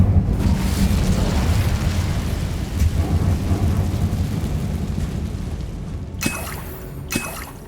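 The Incendio fire spell is cast in Hogwarts Legacy with a deep, booming whoosh of flame that rumbles and slowly fades. Two short bright magical chimes follow near the end.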